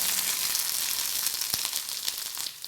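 Mustard seeds and small shallots fry in hot coconut oil for a Chinese potato fry, giving a close, dense sizzle with crisp popping crackles and no talking.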